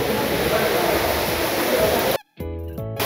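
An artificial waterfall at a cave-themed resort near Bangalore roars as a close, steady rush of falling water for about two seconds, then cuts off as a voice begins speaking.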